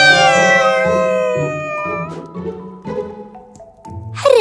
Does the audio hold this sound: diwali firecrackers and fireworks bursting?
no